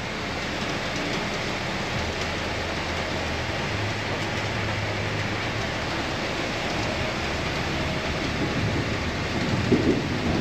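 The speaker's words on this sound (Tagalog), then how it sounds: "Ang problema, ang lakas ng ulan." Heavy rain falls in Taiwan during the rainy season, a steady broadband wash at moderate level with low rumbling beneath, continuous throughout and with no one talking.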